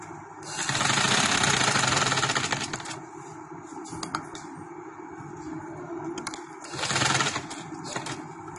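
A sewing machine stitches a baby girl's shirt in two bursts of rapid mechanical chatter, a long run near the start and a shorter one later, with quieter handling sounds in between.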